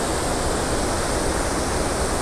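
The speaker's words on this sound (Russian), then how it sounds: "Смотрите, какой длинный водопад." Iguazu Falls thunders as a dense, steady roar of falling water, loud and unbroken with no voices over it.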